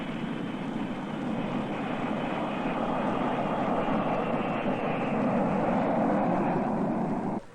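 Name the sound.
1960 jet airliner landing and taxiing at San Francisco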